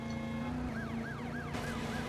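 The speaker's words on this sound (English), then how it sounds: "That's still making the sounds of sirens, even though it doesn't have any." A wailing emergency siren in the Driver San Francisco video game, sweeping up and down in a steady repeating rise and fall over the constant drone of a car engine, loud and close.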